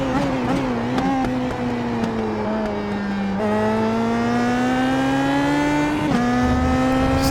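A PM18 race car engine at Mid Ohio Sports Car Course drones loud and close with steady rising pitch as the throttle opens, briefly lifting around the middle before climbing again, with no talk over it.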